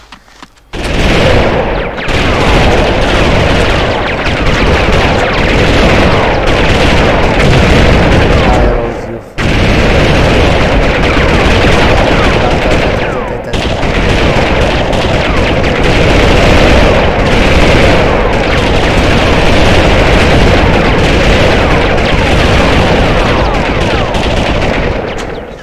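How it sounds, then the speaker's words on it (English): Bomb explosions and heavy gunfire in a single-player desert-map military shooter, a loud, sustained barrage of booms and rapid shots with two brief drops in intensity, dense and close throughout. "Here we have the bomb."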